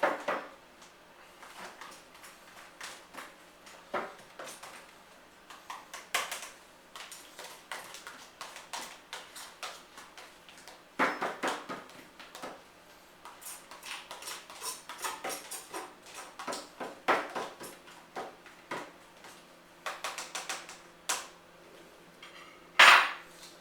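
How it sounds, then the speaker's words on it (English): Fork or utensil tapping and scraping against a bowl while chopping up and mixing a scrambled egg patty, a busy run of sharp clinks and knocks with short pauses, close up, with no talk. "And just give it a little bit of a mix, chop it up a little."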